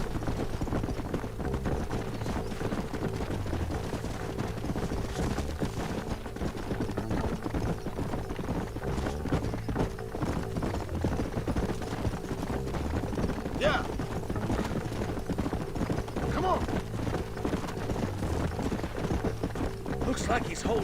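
Horses gallop in the Red Dead Redemption video game, a steady clip-clop of hooves running under continuous game music and ambience throughout.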